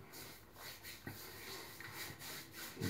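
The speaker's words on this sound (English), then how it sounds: "it's the soap as you rub it that lathers it, makes it go white." Soft, rhythmic rubbing as shaving soap is worked into a lather on a head before shaving, repeated strokes close to the mic, quiet and steady with no talk.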